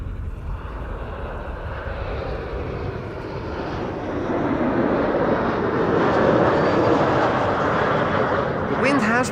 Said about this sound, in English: we are going to see Delta Airlines Flight 144. Back to a widebody A330-300 arriving from Seattle,